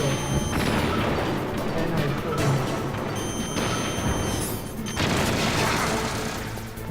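Stinger missile launches and explosions in the Metal Gear Solid video game, loud repeated booms and crashes across the stretch, with a brief word spoken.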